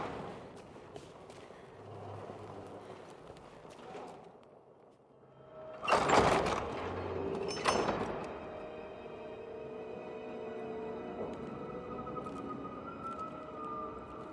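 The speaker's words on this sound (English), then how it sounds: "Magical doors." Magical doors in Dragon Age: The Veilguard open with two loud whooshing, grinding surges a couple of seconds apart, fading into a low lingering hum.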